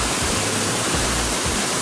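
A river stream near Juna Ghata waterfall by Rajpipla in Narmada gives off a continuous, loud, close rush of flowing water with a low rumble underneath.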